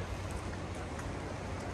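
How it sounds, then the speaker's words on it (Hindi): Heavy rain falling in Haridwar, a steady, dense hiss of downpour with low rumble underneath, constant and close throughout with no talk. "और यहाँ पे हो रही है बहुत तेज़ बारिश"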